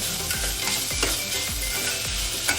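Grated bottle gourd halwa with sugar stirred continuously in a pan over low heat, a steady close sizzle with repeated scraping strokes of the spoon, no voices.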